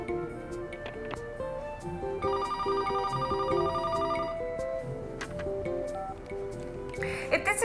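An old-style telephone bell rings in repeated bursts indoors, clear and fairly close, with muffled voices and small handling noises around it.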